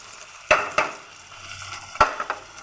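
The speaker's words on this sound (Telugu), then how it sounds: "పోసుకున్న తర్వాత ఉల్లిగడ్డలు ఫ్రై చేస్తాను" Chopped onions frying in a pan of ghee and oil give a soft, steady sizzle, broken by a few sharp spoon clinks against the pan.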